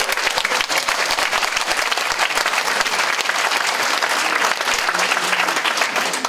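Sustained audience applause at a Catholic church symposium in Korea, dense steady clapping from a large crowd filling the room without a break.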